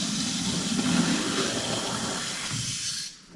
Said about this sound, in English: I can just hear water.